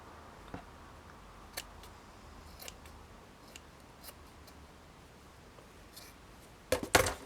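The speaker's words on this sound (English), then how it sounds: "so I'm going to cut a piece of this off" Scissors snip through a piece of antique lace: a few sharp, isolated cuts spaced apart in a quiet room, then a quick cluster of louder snips at the end.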